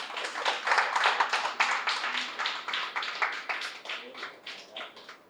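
An audience at a pyramid-society anniversary gathering claps at close range in a fairly loud, rhythmic stream of claps that fades slightly toward the end.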